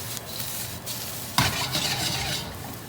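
Rice is tossed and stir-fried in a hot pan for Singapore chili fried rice; a steady close sizzle swells into a louder burst of hissing as the grains are flipped.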